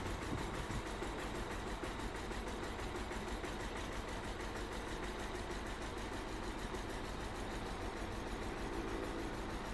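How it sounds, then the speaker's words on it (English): Lexus IS 220d diesel engine idling with a misfire, running rough and unevenly, a continuous fairly quiet chugging drone that carries on steadily without pause and with no one speaking. "There is a misfiring. There is. Oh, it's running really bad."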